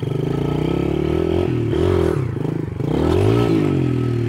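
A trail motorcycle climbs over an obstacle with a brief wheelie, the engine loud and close, revving up and dropping back in surges with some clatter.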